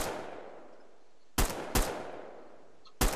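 Gunfire in the Survarium shooter game: a few sharp, loud shots stand alone, one at the start and then single cracks spaced about half a second to over a second apart, each trailing off with a long reverberant decay.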